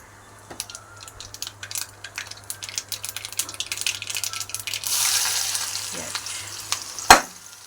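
Cumin and mustard seeds fry in hot oil for a potato fry, with scattered pops and crackles rising into a close, steady sizzle and ending with a sharp clack.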